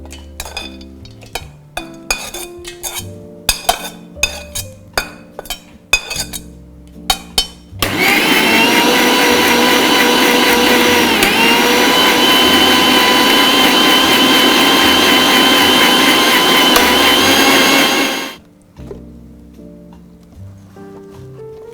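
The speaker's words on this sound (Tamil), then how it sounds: "இதை இப்படி அரைச்சி எடுத்துகிட்டு வந்துக்கலாம் பேஸ்ட்டாக" A mixer grinder grinds roasted peanuts into paste, a loud continuous motor whir running steadily for about ten seconds between scattered clinks and knocks of kitchen utensils.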